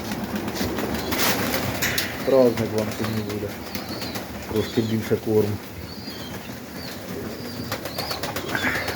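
Pigeons coo softly in a few short bursts inside a loft, with faint wing flutters and patter around them, while someone speaks over them.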